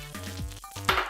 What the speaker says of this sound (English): now that the butter is starting to bubble a little